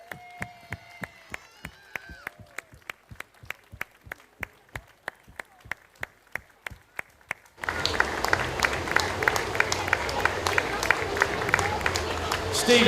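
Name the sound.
collective round of applause at a duck race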